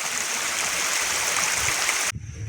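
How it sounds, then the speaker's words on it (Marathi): Steady rushing water of a stream flowing down a steep hillside slope, continuous and fairly loud, cutting off abruptly near the end to a quieter background. "डोंगरावरून जे पाणी वाहत येत आहे ते थेट हे अशा उतारभागावरून खाली येत आहे"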